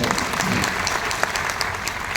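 A poetry recital audience at an evening of Anant Raut's poems claps in dense, continuous applause, loud and close throughout.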